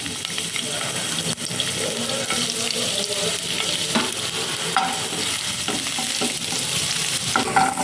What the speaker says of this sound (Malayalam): ഓയിലിലോട്ട് നമുക്ക് ക്രഷ് ചെയ്ത് വെച്ചിരിക്കുന്ന വെളുത്തുള്ളി ആദ്യം ഒന്ന് ഇട്ട് കൊടുക്കാം